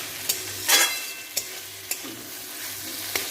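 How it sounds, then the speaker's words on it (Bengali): Grated paneer sautéing in a pan gives a steady close sizzle, punctuated by a few sharp scrapes of a spatula stirring at irregular intervals. "একটুখানি পনিরটা দিয়ে কষাবো।"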